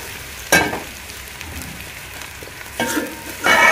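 Zucchini and onions fry in a pan with a steady low sizzle, broken by a few louder stirring scrapes and bursts near the start and toward the end.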